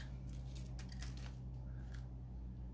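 Scissors snipping off an end during a craft project, a few faint quick cuts over a steady low hum, no talking.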